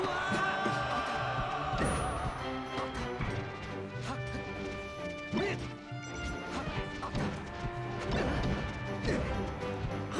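Up smash attacks landing during a Super Smash Bros. Melee doubles tournament match, sharp hit impacts crashing repeatedly through a dense, continuous wash of game sound effects.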